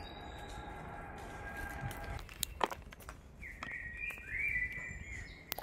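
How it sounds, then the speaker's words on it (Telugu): Birds chirp on an evening family walk, a few short high calls and a longer warbling phrase standing out over faint outdoor background noise and some light footstep-like sounds. "పక్షులు చూడండి, కిలకిలలు."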